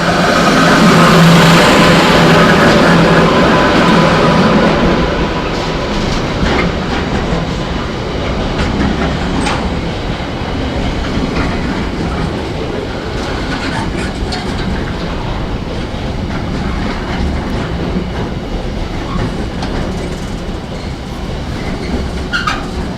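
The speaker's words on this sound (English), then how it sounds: "We got a pair of Class 86 locomotives now, hauling a container train." A long container train hauled by a pair of Class 86 locomotives rumbles steadily past at Ipswich Station, with a continuous roar of wheels and faint rail clatter.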